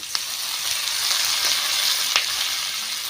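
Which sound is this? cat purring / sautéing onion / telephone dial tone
sautéing onion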